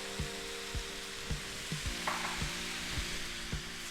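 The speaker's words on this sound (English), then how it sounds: "With the spoon, you break up all the meat and mix them all together with the sauté veggies." Ground meat sizzles steadily in a pan with sautéed vegetables for a Bolognese sauce, as a spoon breaks it up and stirs it. Regular scraping strokes land about every half second over a constant frying hiss.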